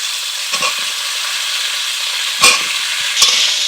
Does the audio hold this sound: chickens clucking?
no